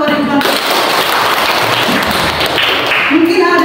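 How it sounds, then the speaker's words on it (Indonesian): Classroom applause after a student answers in a science lesson, a dense burst of clapping from pupils lasting a few seconds, with a teacher's voice speaking briefly at the start and end. "Kita tepuk tangan untuk Adik Jual."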